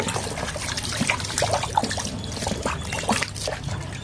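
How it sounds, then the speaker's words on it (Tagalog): Water trickles and splashes while plates are washed, an uneven running stream with light clinks and dribbles, close and fairly loud, without speech. "Hirap yata maghugas eh."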